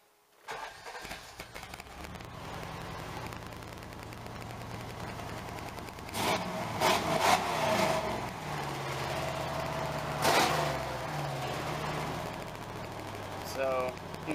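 Chevy truck engine after three fuel injectors were replaced and a tune-up, starting then idling steadily nearby, with a couple of louder throttle blips and a voice over it.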